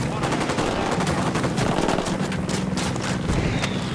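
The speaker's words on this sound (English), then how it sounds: "I'm opening fire on these shitheads." Rapid bursts of rifle and automatic gunfire in the Ghost Recon Wildlands video game, dense and continuous crackling shots throughout.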